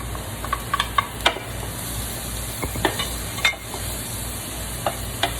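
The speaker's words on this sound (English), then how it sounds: "My garlic fry up real good. Then I'm going to put my onions." Garlic and onions fry in a pan with a constant bright sizzle, punctuated by sharp crackles and a few scraping stirs; no one speaks.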